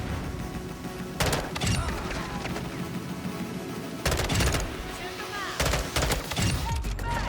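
Rapid bursts of M16 rifle fire in Modern Warfare 2 crack out over a dense, busy battle din, short clusters of shots at about one, four and six seconds with steady game noise between.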